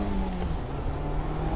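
The engine of a 2021 Mazda MX-5 RF hardtop convertible roadster accelerates, a close, loud, steady drone with a low rising tone heard from inside the car.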